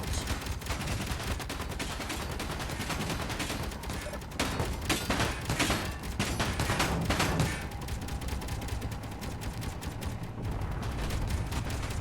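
Rapid gunfire in the video game Space Engineers: a dense, continuous barrage of loud, crackling shots and heavy bursts that keeps up for the whole stretch, close and relentless, with short lulls and renewed volleys.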